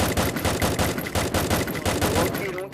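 Rapid automatic gunfire in a shooter video game, a dense, loud stream of shots fired in quick succession across the whole moment, close and punchy, ending abruptly.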